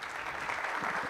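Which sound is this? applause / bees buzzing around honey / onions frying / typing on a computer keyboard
applause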